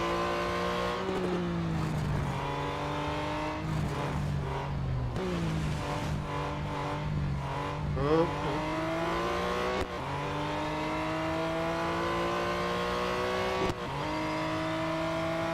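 Race cars in Real Racing 3 roar with continuous engine revving that climbs and drops with gear shifts, loud and close, while other cars pass throughout.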